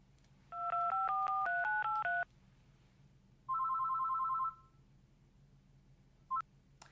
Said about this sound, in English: I need to make a phone call